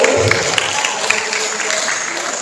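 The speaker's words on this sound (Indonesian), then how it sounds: "Boleh yang kasih tepuk tangan bersama Tuhan." A room of people claps together in a dense, steady burst of applause.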